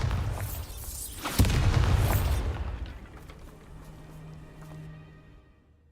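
A Bombarda spell in Hogwarts Legacy bursts in a loud, booming explosion, followed by a fading rumble that settles into a quieter tonal hum with no voices.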